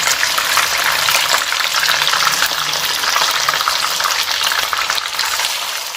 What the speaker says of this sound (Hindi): हम इसी ऑयल में चिकन शामिल करेंगे और अच्छे तरीके से हल्का सा सुनहरी इसको करेंगे